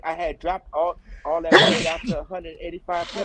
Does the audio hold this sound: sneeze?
yes